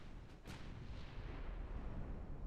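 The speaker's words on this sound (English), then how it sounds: "Load the cannons and shoot again." Heavy naval guns fire in the Ultimate Admiral Dreadnoughts warship battle game, a sharp blast followed by a rumbling, sustained roar of distant gunfire and battle ambience.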